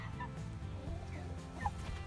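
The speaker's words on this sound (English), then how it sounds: "There's still a chicken in there." A chicken clucks softly in a coop, a couple of short, faint clucks over a steady low background hum.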